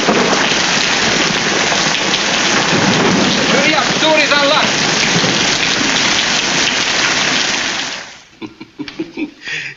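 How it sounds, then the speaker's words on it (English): Heavy rain pours down steadily and loudly with rumbles of thunder, a dense downpour that fills the scene before dropping away abruptly near the end; a voice speaks briefly over the storm. "Oh, it's raining harder."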